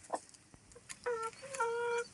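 Rhode Island Red and Black Australorp hens in a backyard coop give short, close clucks and a few drawn-out, rising bawks that come in a loose, uneven rhythm with no other sound around them.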